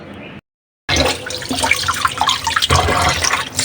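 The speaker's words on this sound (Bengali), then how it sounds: "এই যে সব মাছ কেটে নিছি কেটে কেটে এই যে ধুয়ে নিতেছি" Freshly cut rohu fish from a pond being rinsed under running water in a home kitchen, a steady splashing tap stream after a brief silent gap, close and fairly loud with no talking.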